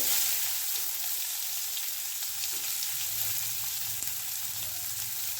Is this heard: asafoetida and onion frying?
yes